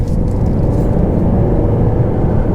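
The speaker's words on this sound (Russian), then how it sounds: "чуть-чуть шины подшумливают. Я бы даже сказал, подсвистывают" A steady low tyre hum and road rumble with a slight whistle from inside a 2019 Mercedes E 200d at speed, loud and constant, with no talking.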